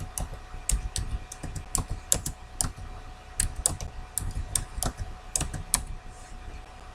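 Rapid keystrokes as a password is typed on a computer keyboard, close and clear, in uneven bursts of clicks with short pauses, no talking.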